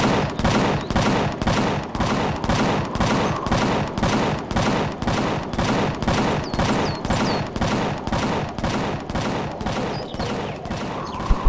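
Rapid automatic gunfire in the sci-fi survival game Empyrion Galactic Survival, a steady rhythmic stream of evenly spaced loud shots running continuously with no talking.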